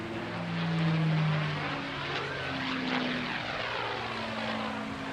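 A North American Aviation propeller warplane flies past at an air show, its steady engine drone swelling and fading as it passes at a moderate distance.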